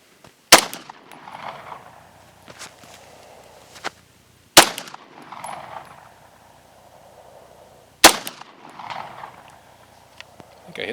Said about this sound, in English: Here's the Glock 19. We're going to be using the same 9mm UMC 115 grain ammo